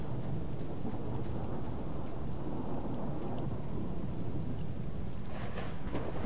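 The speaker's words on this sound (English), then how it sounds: "What's with the thunder?" Rolling thunder and steady rain in the Lost Alpha video game at Yantar, a continuous loud broadband rumble of a storm with faint brief rain and crackle details, no voices.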